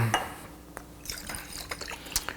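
Small glass sample vials of municipal tap water are shaken during a water test, giving close, wet sloshing with light glassy clinks and taps and no talking.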